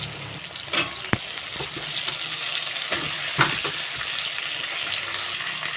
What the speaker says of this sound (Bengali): আলুটা দেখো ভাজা ভাজা হয়ে এসেছে এখন আমি বেগুনগুলো দিয়ে দেবো